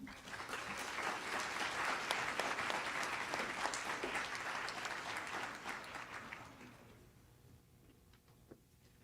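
Audience at a medical school white coat ceremony applauds to welcome a speaker, dense sustained clapping for about six seconds that then thins and fades into a quiet room.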